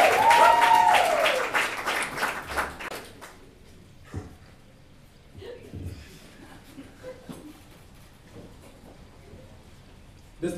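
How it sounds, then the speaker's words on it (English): An audience at a comedy roast breaks into loud applause that fades over a few seconds, followed by quieter shuffling and scattered room noise. "Give him a round of applause."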